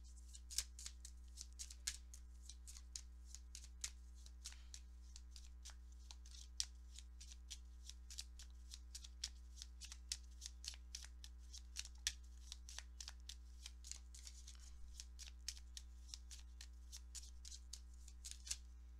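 Tarot cards are shuffled by hand in a continuous run of crisp, rapid riffling snaps across the whole stretch, close and fairly quiet over a steady low hum, with no talking.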